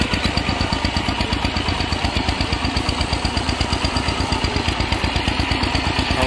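A homemade 4x4 ride-on vehicle built from two walking tractors runs its engine with a loud, steady, fast knocking chug, close and unbroken, with no voices.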